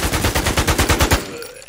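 Automatic gunfire in the video game Infestation: NewZ, a fast burst of about a dozen sharp shots in a steady rhythm, loud and close, ending abruptly.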